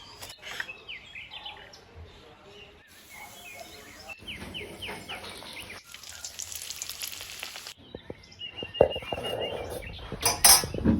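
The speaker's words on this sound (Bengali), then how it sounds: "তো চলো বাকিগুলো এবার সব ভাজবো।" Crispy breakfast snacks fry in hot oil in a village kitchen, a quiet, crackling sizzle running throughout with occasional clinks of utensils, while birds chirp faintly in the background.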